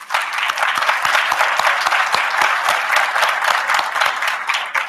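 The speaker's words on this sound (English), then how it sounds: "with a round of applause." Dense, steady audience applause fills a mid-year commencement ceremony at Tar River Academy in 2017, following thanks to a Navy Junior ROTC unit; the clapping stays loud and continuous throughout without a break.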